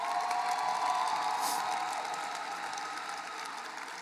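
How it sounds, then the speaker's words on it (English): High school graduation audience applauding the graduates' families, a steady wash of many hands clapping with some cheering that slowly fades. "join me in giving them a round of applause"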